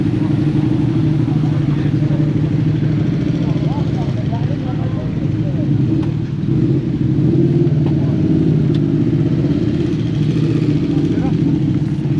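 Motorcycles arrive at an evening bike meet at Ashby Folville, a loud continuous engine rumble and idling drone from several machines nearby, with people talking over it.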